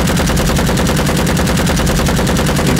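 A machine gun in Rising Storm Vietnam fires one sustained, rapid automatic burst, loud and close, with evenly spaced shots continuing for nearly three seconds without a break.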